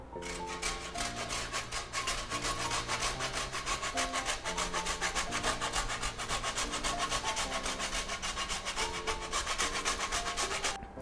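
Parmesan cheese is rubbed across a grater for an Italian lasagna in quick, even rasping strokes, close and continuous, over steady background music.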